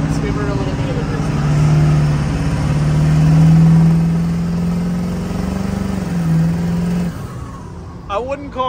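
A worn van engine pulls hard under acceleration with a rising drone and a faint turbo whine, loud inside the cabin as people chat, then the engine note drops away near the end.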